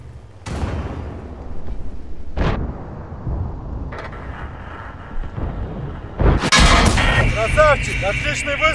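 Tank cannon shots in a video game: three loud booming blasts with rumbling tails, spaced a couple of seconds apart, the last followed by chirping game effects and background clatter.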